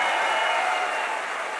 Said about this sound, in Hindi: आप सब लोगों की एक बार जोरदार तालियों के बीच में